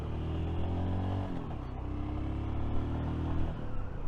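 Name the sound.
Royal Enfield motorcycle engine while riding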